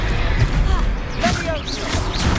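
A Confringo fire spell fired in the video game Hogwarts Legacy during a troll fight, with a burst of whooshing, crackling energy and chirping tones over a dense, busy game soundscape, with voices and action mixed in.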